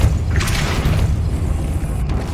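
Depulso force spell cast in Hogwarts Legacy, a single deep booming burst with a brief bright whoosh on top, fading into a steady low rumble that stays loud to the end.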